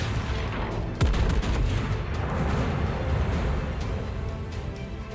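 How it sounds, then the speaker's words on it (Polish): Secondary artillery from the tier IX American premium battleship Georgia booms in World of Warships, a sharp heavy shot opening the stretch, then a steady rumble of further rounds and distant impacts. "zobaczcie, już ta artyleria z większą precyzją i dokładnością obija to Nagato"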